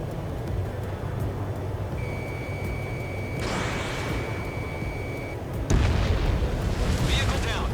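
Explosions and anti-air gunfire from an air-combat video game, with a steady battle rumble, a sustained tone, and a burst of louder blasts and crackling fire toward the end, under a continuous background roar.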